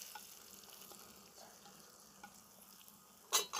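Onion, green chilli and coriander powder stirred in a hot pan for an egg curry, a quiet steady sizzle with soft scraping, ending in a couple of sharp louder clatters of the spoon against the pan.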